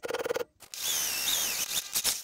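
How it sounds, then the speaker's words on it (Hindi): A power drill whines steadily, drilling into a Bajaj Platina H-gear motorcycle to mount a fog lamp, after a brief rattling burst and before a few short final revs. "तो यहाँ पे हमको ड्रिल करना पड़ेगा।"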